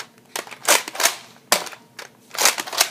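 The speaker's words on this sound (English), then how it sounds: "It is a 12-gauge shotgun, Nerf one, Rogal 2x4 sawed-off Nerf shotgun." A Nerf Rogal 2x4 sawed-off 12-gauge toy shotgun is cocked and fired, producing several sharp plastic clacks and snaps in quick irregular bursts, loud and close with no talking.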